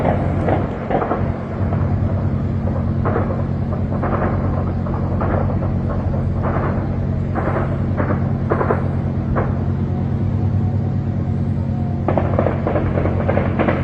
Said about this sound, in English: Look at all this gunfire